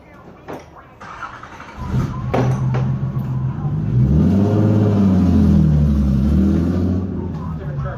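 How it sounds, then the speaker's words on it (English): A truck pulls up nearby, its engine droning and rising in a sustained rev with low rumbling harmonics, while people talk faintly underneath. "Truck's back."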